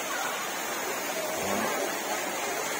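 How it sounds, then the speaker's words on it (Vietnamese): Water tumbling down a small waterfall into a pond at Vạn Phước pagoda in Bình Đại, Bến Tre, a steady broadband rush that stays fairly faint and even throughout. "Có thác đổ nữa nè."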